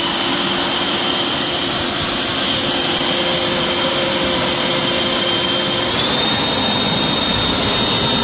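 An AiDot Enhulk 930 leaf blower runs at full power with a loud, continuous high-pitched whine and roaring airflow, close up and unbroken, rising slightly in pitch near the end.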